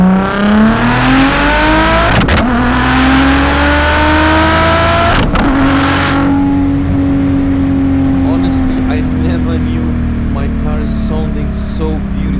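Audi S4 B5 with a biturbo V6, heard through a mic on the exhaust during a hard pull. The exhaust note rises loud and close, with two sharp gear shifts, then settles into a steady drone at higher revs.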